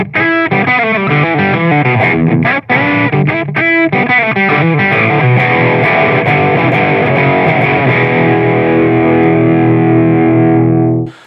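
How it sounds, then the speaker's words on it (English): A bluesy riff on an electric guitar played through a Boss FDR-1 Fender Deluxe Reverb pedal, loud with gritty overdrive. Rhythmic strummed chords and single-note runs end on a long sustained chord that rings out. "here's the sort of bluesy riff"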